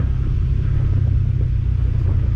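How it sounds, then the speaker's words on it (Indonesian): Deep idling rumble of a Unicorn Indoren bus bound for Jakarta at Arjosari bus terminal in Malang, a steady close low engine drone with slight fluctuation and no talking. "Ini ada bus Unicorn Indoren tujuan Jakarta."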